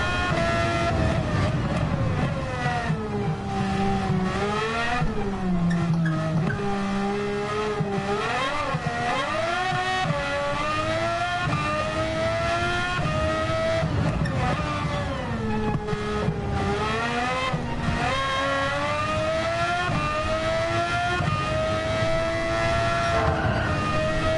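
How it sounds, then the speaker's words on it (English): A race car engine in Gran Turismo 7 roars continuously at close range, its pitch climbing and dropping repeatedly through gear changes and throttle lifts over a full lap, loud and steady with no pauses. "the engine on this car is extremely loud"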